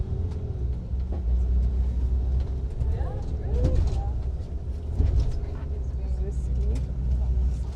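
Crowded airport shuttle bus carrying passengers across the tarmac, a steady low engine rumble and road noise throughout with occasional knocks and rattles, people talking faintly in the background.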